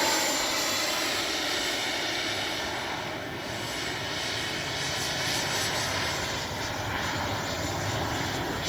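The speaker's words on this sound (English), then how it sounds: "What a sweet flying jet" An RC F-15 model jet with twin 64mm ducted fans flies overhead with a steady, loud, rushing turbine whine that holds nearly constant throughout, with no talk over it.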